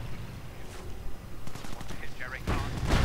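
Gunfire crackles through a WWII strategy game battle as Panzer IVs, Cromwell tanks, Fireflies and Panzerschreck and PIAT teams trade shots: scattered bursts build toward a louder, dense volley at the end while a commentator talks over it.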